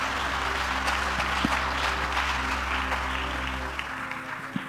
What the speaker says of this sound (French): Allez, l'appel à la mission, acclame pour le Seigneur.